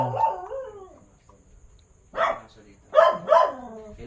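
A dog barks inside an old cement-floored ancestral house in Cebu City, giving a few separate barks with quiet gaps between them, fairly close and heard on their own.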